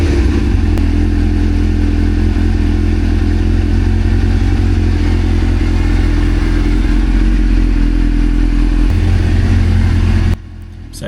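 A rebuilt 1999 Suzuki GSX-R 600 motorcycle engine runs steadily at a close, loud idle after its first start in a long time, with a low throbbing rumble that cuts out near the end.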